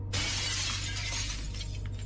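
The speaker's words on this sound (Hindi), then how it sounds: "कांच टूटने की आवाज आती है" Glass breaks at night with a sudden loud shatter that bursts in and then rings out into a sustained crunching, tinkling spray over a low steady hum.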